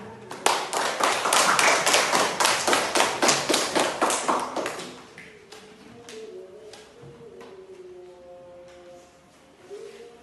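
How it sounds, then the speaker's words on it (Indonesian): A group of children in a classroom claps together in a quick, rhythmic burst for several seconds, then it fades into scattered claps and background murmuring. "tepuk tangan untuk jawaban temannya"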